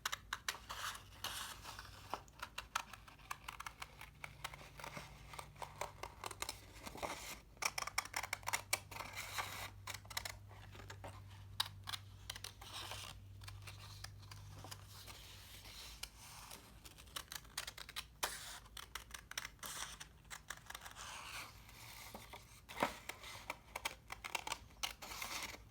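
Scissors slowly cutting paper around a hand shape for a positive/negative space collage, giving soft, irregular snips and crisp clicks close by, with no talking.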